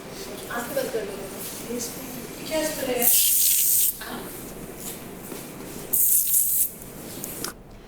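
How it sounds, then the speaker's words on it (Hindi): A spray bottle from a table on a game show set is sprayed onto two contestants' faces, giving two short, loud hissing bursts, with a host talking before and between them. "तो अब आप वहां टेबल पे रखे स्प्रे को इन दोनों के फेस पे स्प्रे करें।"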